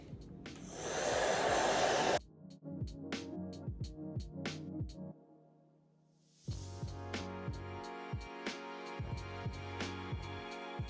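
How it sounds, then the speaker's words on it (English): A hair dryer blows on a deep wave wig in a steady airy roar for about two seconds, then cuts off, leaving quieter tonal sounds. The whole recording is faint. "I'm just going to continue blow drying my hair until it's completely dried"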